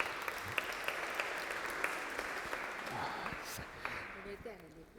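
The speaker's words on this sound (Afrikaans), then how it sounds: "julle kan vir hom lekker hande klap" A church congregation claps for a newly baptised member during a service: dense, continuous hand clapping from many people in a room, moderately distant, with talk rising near the end as it fades.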